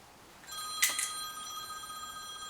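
Mobile phone ringing with an incoming spam call, a single electronic ring tone starting abruptly with a sharp click, steady bright tones that ring on with no talk over them.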